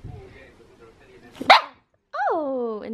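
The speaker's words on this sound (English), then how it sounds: "He just barked at the camera." A new puppy lets out a sharp, loud single bark close by, followed after a pause by a high, drawn-out whine or howl; a person speaks softly at the start.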